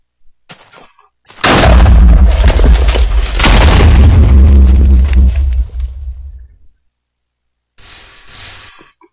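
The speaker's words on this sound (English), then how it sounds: "No, your TNT's on fire!" Minecraft TNT detonating in a game scene: a sudden loud, booming blast with rumbling debris that rolls on for about four seconds, dies away, then a shorter burst of crackling noise follows near the end.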